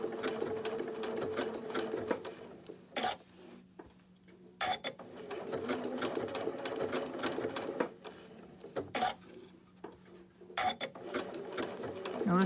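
Sewing machine stitching around an appliqué quilt block, bursts of rapid mechanical whirring broken by short pauses as the fabric is pivoted, close and clear.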